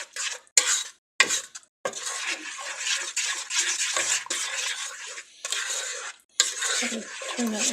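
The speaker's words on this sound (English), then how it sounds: "I just keep stirring it, trying to get those chunks of cocoa to thin out" A spoon scrapes and clatters around a pot of boiling cocoa mixture for no-bake cookies, uneven bursts of stirring with short pauses, close and fairly loud.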